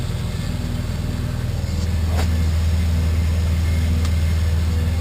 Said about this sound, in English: The rate itself will go up depending on how many RPMs we're pushing on that pump.